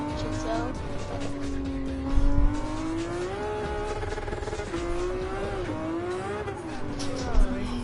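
Ferrari engine in a racing video game, revving with a steady rising and falling tone and brief tire squeal bursts, loud and continuous with people talking over it.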